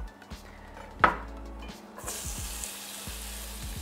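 Onion fries in a pan with a close, steady sizzle that grows brighter partway through, with one sharp utensil clack against the pan before it.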